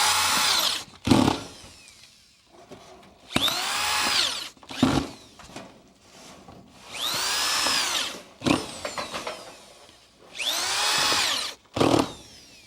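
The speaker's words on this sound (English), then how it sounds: "fasten the gable trim to the roof panel on approximately 1 foot center" A power drill drives fasteners through gable trim into a metal roof panel in repeated whining bursts of a second or two that rise and fall in pitch, with quiet pauses between them and sharp metallic clicks.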